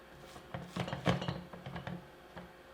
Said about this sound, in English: I do want to scrape down the side just a little bit